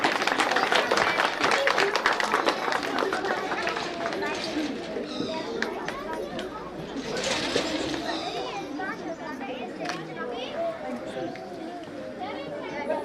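An audience at a school's annual prize distribution function claps in a dense burst that fades gradually, with children chattering and playing throughout.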